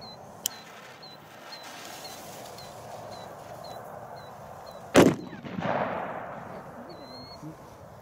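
Consumer firecrackers go off outdoors: one loud sharp bang lands midway, followed by a crackling burst, with a small pop earlier and faint chirping birds in the background.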